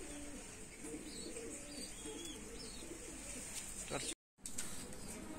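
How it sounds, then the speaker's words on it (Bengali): Tournament-bred baby pigeons of Madrasi, Andhra and Chennai lines cooing softly and faintly amid low background noise, with a brief break in the sound near the end. "এই হচ্ছে পায়রা।"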